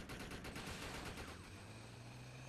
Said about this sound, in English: Some random guy just shooting up the place.